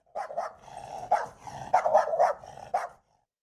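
A dog barks several times in quick, uneven bursts, close and clear, then falls silent.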